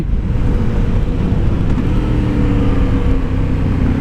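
A motorcycle with a CP2 engine accelerates hard in first gear, its front wheel lifting, with a loud, continuous, close engine roar and no letup.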